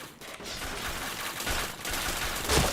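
Rapid gunfire from the shooter game Point Blank rattles on in quick, repeated bursts, moderately loud and fairly steady, with a sharper crack near the end and no speech.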